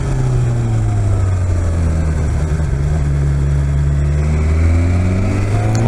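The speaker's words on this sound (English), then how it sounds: "This is a 4-cylinder engine, so obviously, yeah, the power is not coming from down under." BMW S 1000 XR four-cylinder motorcycle engine accelerating, a loud continuous drone that rises and dips slightly in pitch with steady wind rush throughout.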